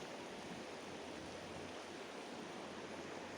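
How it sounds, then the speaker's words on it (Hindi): The Durbuk river in Ladakh flows with a continuous broad rushing wash, steady and fairly distant, with no voices. "नदी का प्रवाह"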